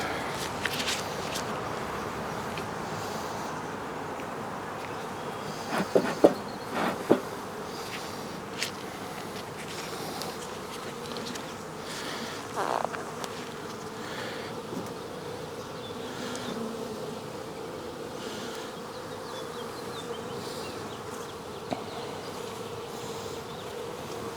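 Honeybees hum continuously around an open hive during an inspection, a close, steady buzz with occasional louder passes and a few faint handling clicks and footsteps.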